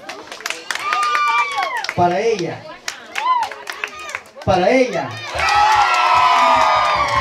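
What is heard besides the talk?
crowd shouting and applauding for a dance contestant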